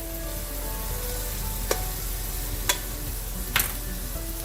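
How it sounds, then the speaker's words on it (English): Beef sizzles steadily in a pan as broccoli goes in for a creamy macaroni dish, a constant close frying hiss broken by three sharp clacks of utensils. "I am going to add the broccoli."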